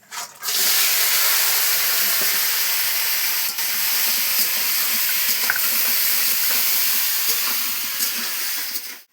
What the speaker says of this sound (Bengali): হ্যাঁ, কাঁকড়া ভাজে নিই।